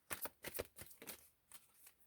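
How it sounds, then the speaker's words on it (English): Tarot cards being shuffled by hand in a series of quick riffling bursts, about six separate shuffles with brief pauses, close and fairly quiet, no voices. "Two more shuffles."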